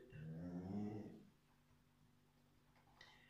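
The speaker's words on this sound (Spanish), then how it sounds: "Si oís hay un perro quejándose porque vienen de cazar y están súper molidos" A tired hunting dog, just back from a hunt, gives a low drawn-out whine or groan up close, followed by a faint brief yelp.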